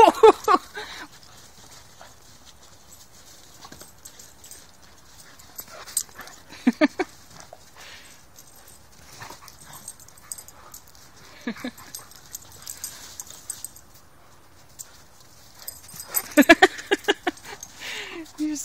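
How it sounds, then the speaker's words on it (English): A playful dog whimpers and bounces around, with soft whines and scattered thumps spread across the moment and a louder burst near the end, while people talk and laugh nearby. "You silly bouncy doggy."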